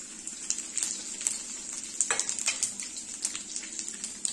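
Cumin, garlic, green chilli and onion fry in hot oil, a steady close sizzle with crackling pops and occasional spoon stirs, no talking.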